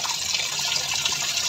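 Water pours steadily into a washing machine drum, making a continuous close gushing and splashing rush at even loudness, with no voices.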